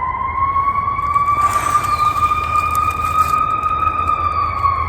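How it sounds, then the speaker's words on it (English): A loud, steady wailing siren holds a sustained tone with slow pitch drift, close by, over a low background rumble. "We got some sirens going on down here."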